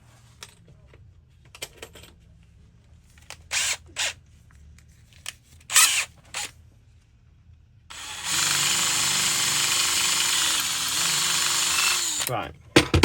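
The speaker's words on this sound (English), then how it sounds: "Probably needs to go bigger with the drill." After scattered clicks and handling noises, a power drill whines steadily for about four seconds as it bores a bigger hole, its pitch dipping briefly under load before spinning down.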